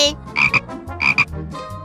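A frog croaks in two quick double-note bursts followed by a softer trailing call, loud and close, with no talking.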